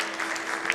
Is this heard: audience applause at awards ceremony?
yes